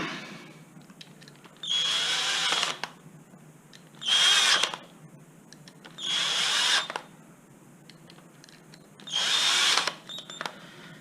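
A power tool drives fasteners on the gearbox cover of a Zip X5 scooter in four separate whirring bursts of about a second each, close by, with quiet handling noise between them.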